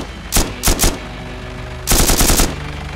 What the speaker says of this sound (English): Okay, I'm gonna shoot it.